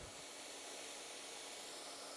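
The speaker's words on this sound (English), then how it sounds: "we're going to blend it all a little bit further with the hairdryer" Hair dryer blowing over copper-tinted epoxy resin on a countertop, a steady, faint airy whoosh with no pauses.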